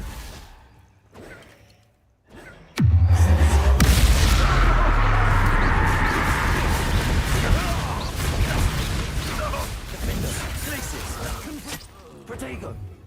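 A Confringo fire spell explodes in Hogwarts Legacy: a quiet lead-in, then a sudden heavy boom that rolls into a long roaring, crackling blast fading slowly, with a voice speaking briefly.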